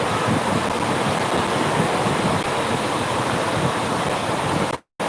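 Sea waves wash onto the beach at Calang, Aceh Jaya, near Desa Daya Baru and Ketapang, a loud, continuous roar of surf and wind that cuts out briefly just before the end.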